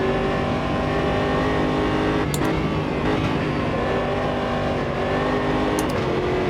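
Race car engine in the Automobilista 2 driving simulator, holding a loud, steady high roar with two brief shift breaks where the tone drops and climbs again, no talk.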